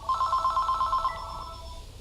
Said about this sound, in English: I gotta answer the phone now.